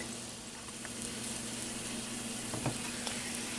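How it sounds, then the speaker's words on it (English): Soy-free Burmese tofu sizzles in a pan over a stove a little above medium heat, a steady frying hiss with faint pops and one or two soft utensil clinks. "So I'm just going to fry this, flip it over, and tell you guys what this is like."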